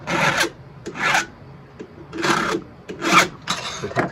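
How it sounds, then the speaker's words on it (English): A hand file rasps across the depth-gauge rakers of a chainsaw chain in a wood lot, several short scraping strokes in an uneven rhythm, close and fairly loud, with no talk. "A little bit goes a long way when it comes to filing the chainsaw."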